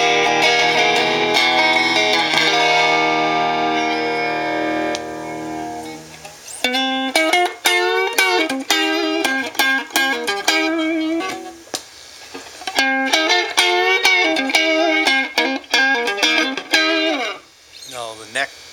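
An electric guitar plays through an all-tube 5F2A amp head with added distortion. A long sustained, gritty chord rings first, then loud choppy riffs and single notes follow with short pauses.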